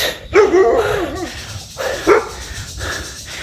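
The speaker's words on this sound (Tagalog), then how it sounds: "May nangahabol kasing aso dito" A dog barks several times nearby at a jogger in Mariveles, Bataan, Philippines, loud, sharp yaps spaced irregularly, with some whining between them.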